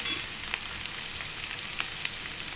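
Green masala poha sautéed in a pan, a soft steady sizzle with faint scraping stirs, quiet and close, no voices.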